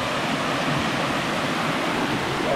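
A waterfall in a mountain gorge roars steadily, a dense continuous rush of falling water filling the air with no pauses.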